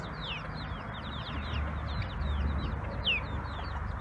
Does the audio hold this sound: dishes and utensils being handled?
no